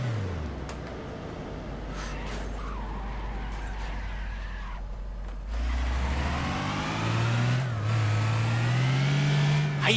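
A Nissan Silvia S14 engine in the driving game City Car Driving, revving hard and climbing in pitch, dropping back and surging again, with tire skids and a steady close engine roar throughout.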